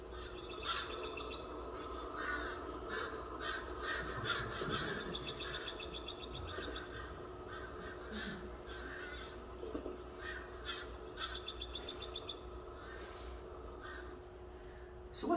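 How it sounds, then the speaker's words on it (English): Crows mobbing a bald eagle: a flurry of repeated harsh caws from several birds, overlapping and irregular, moderately distant, with a steady background hum and occasional other bird calls. "the crows found it. And then the crows started mobbing."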